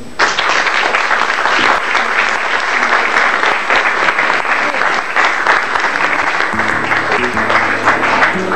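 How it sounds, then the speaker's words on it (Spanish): Strong, sustained audience applause at a rural education event in Uruguay, close and dense, with a musical tone entering softly near the end. "Yo les pido para Luis Jurado un fuerte aplauso."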